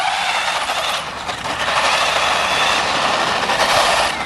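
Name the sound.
Tamiya Manta Ray RC car electric motor running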